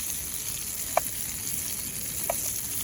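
Prawns frying in butter in a pan give a constant, even sizzling hiss, close up, broken by two faint utensil taps.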